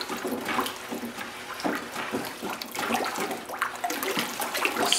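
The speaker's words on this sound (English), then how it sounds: "so let's give that a good stir." Shino pottery glaze is stirred in a container, a continuous wet sloshing and swirling with uneven surges, close and steady with no talking.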